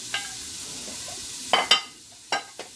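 Onions in a pan for goulash give a faint, soft sizzle with a few brief scraping clicks of stirring, close and quiet, with no talking.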